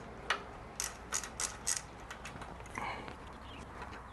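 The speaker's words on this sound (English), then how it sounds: "So I got my wrench here in a socket, and I'm simply gonna undo these two bolts" A socket wrench ratchet clicks in short, close bursts while loosening 8 mm bolts on the ABS hydraulic unit of a Yamaha R3 motorcycle, a few sharp metallic pulls separated by pauses, with no talking.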